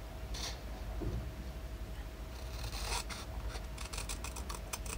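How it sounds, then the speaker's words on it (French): Scissors snip through paper for a handmade craft box, several short crisp cuts close by in a quiet room, with light rustling of the paper between them. "je vais prendre ma paire de ciseaux"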